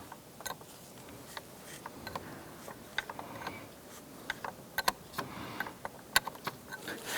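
Wrench ratcheting as an 18mm nut is loosened on the power steering pump of a 2005-2007 Ford Five Hundred, a quiet run of irregular metallic clicks and ticks, close by.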